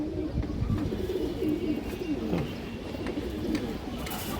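A pair of large green-necked pigeons at a pigeon sale give repeated low, throaty coos in a rolling rhythm, close by and clear over a light background murmur.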